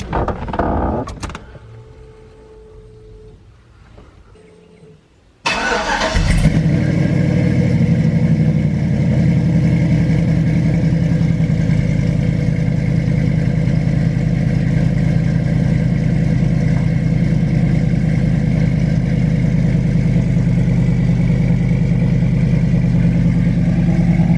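A 1984 GMC C10 square-body pickup with an LS engine swap cranks and fires up, then settles into a loud, steady high idle with a constant low rumble that continues alone for about twenty seconds.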